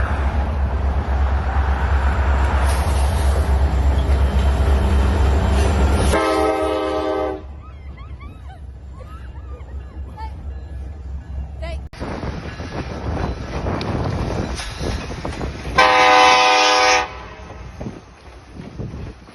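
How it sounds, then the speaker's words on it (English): A train rumbles past close by on the rails with heavy low-end rolling noise and sounds its horn twice in long blasts, while a person talks intermittently nearby. "the train is behind of me"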